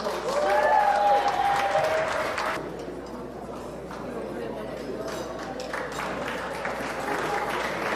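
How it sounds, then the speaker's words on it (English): Audience applause at an award ceremony, a dense wash of clapping from a crowd that swells loudly for the first few seconds and then continues at a steadier, slightly softer level. "Let's give her a round of applause."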